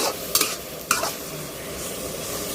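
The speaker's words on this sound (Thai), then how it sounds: "ตอนนี้เราก็ลวนหมูนะคะ อ่าลวนหมู ให้แห้งนะคะ" Minced pork stir-fried in a pan for stir-fried basil pork, a steady close sizzle with two sharp scraping stirs of the spatula early on and no talking.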